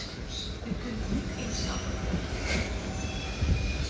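An Amsterdam metro M5 train rolls past with rumbling wheels and a few faint squeals, heard at a moderate distance while people talk over it.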